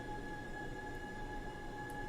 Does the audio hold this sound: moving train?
yes